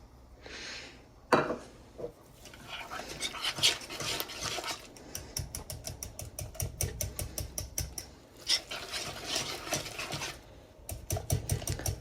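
A wooden spoon beats batter for chocolate-filled cream puffs in a bowl, making rapid rhythmic thumps and knocks in bursts with brief pauses, close and moderately loud.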